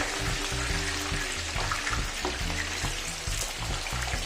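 Potato slices fry in hot oil for homemade crispy chips, giving a steady, close, continuous sizzle and crackle with a low tonal hum running underneath.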